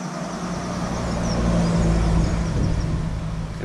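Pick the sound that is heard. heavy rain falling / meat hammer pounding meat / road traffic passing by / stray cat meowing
road traffic passing by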